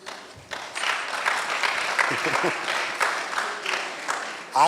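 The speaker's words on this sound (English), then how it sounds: "I did say you were going to clap for me." Applause from an audience at a public hearing on a climate change bill in a community hall in Knysna, steady and fairly loud for several seconds, with a voice briefly heard near the end.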